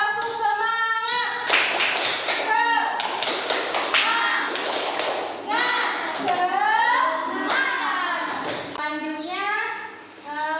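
Schoolchildren in a classroom perform a rhythmic spirit clap, sharp hand claps and taps in quick patterned bursts, mixed with loud children's voices chanting and calling over the claps.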